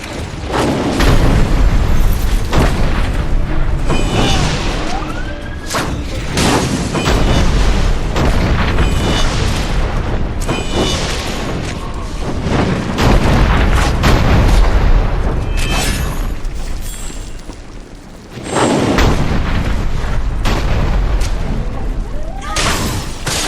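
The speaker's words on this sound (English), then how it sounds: "Ready the cannons!" Cannons firing during a battle in the video game Dungeon Siege 3, a continuous barrage of heavy booms and explosions layered with clashing combat noise, loud and dense throughout with a brief lull near the end.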